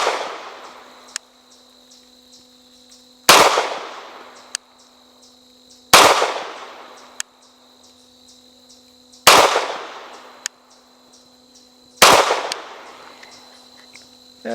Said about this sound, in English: 5 shots to the body from a distance of 15 yards.